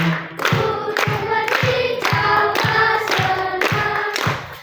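Primary school children at a National Children's Day morning assembly clap their hands in a steady, loud rhythm, keeping time under group singing.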